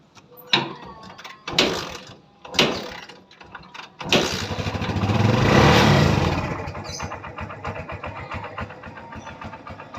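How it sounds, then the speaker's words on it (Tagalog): A tricycle motorcycle engine cranks with a few short bursts, then starts and revs up loudly before settling into a steady, close idle. "Painitin na po natin ang ating makina."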